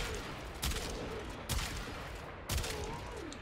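Quartakk assault rifle in Warframe firing three sharp bursts about a second apart over a constant hum of game ambience and effects.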